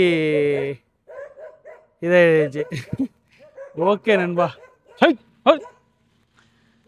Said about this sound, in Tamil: நாய் கடிக்க போகுது இவருங்க நாயை கத்திக்கிட்டு கிடக்கு